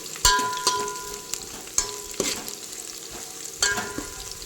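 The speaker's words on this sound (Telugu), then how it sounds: "ఇప్పుడు ఇది వేగుతుంది కదా" Soya chunk pulao frying in a pan, a steady close sizzle with a few sharp scraping clinks of stirring spread across the clip and no voices.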